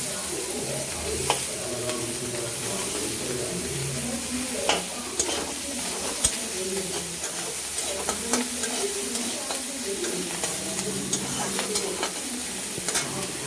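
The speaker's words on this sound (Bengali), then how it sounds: "এর সাথেই দিয়ে দিলাম আমরা রসুনের কোয়াগুলো, আর দিয়ে দিলাম কাঁচা লঙ্কাগুলো, দিয়ে এর সাথে ভালো করে আমরা ভেজে নেব" Garlic cloves and green chillies sizzle steadily in hot oil in a pan, a continuous close frying crackle broken by occasional stirring scrapes and small pops, with no talking.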